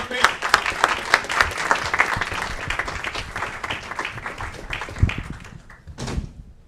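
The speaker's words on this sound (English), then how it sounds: "Applause for our young people." Applause for the Aurora Youth Council's young people at an Aurora council committee meeting, a dense crowd clapping steadily for about six seconds and then fading out, with a few voices mixed in.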